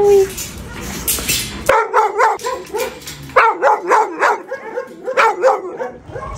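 Several dogs bark repeatedly at an animal shelter, loud and close, in a steady run of overlapping barks after a short stretch of people talking.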